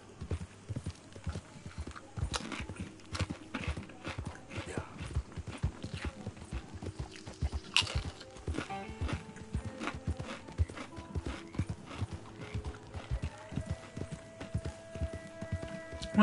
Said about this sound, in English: I just love this horse